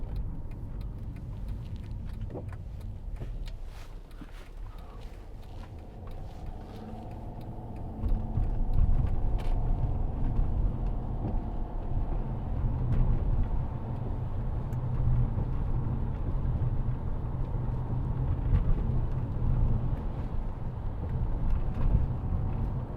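A 2009 Mercedes-Benz E320 E-Class sedan drives on a test drive, its engine and road rumble low and steady from inside the cabin, swelling as it accelerates partway through with some wind noise.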